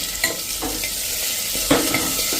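Peanuts and peas go into a pan of hot oil over a slow flame for khichdi, sizzling steadily while a spoon scrapes and stirs in a few clear strokes, close and loud.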